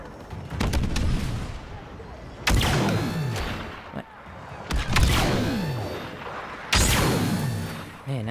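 Turret gunfire in the Star Wars Battlefront 2 video game: loud, booming blasts fired in heavy bursts with decaying tails, under faint game sounds.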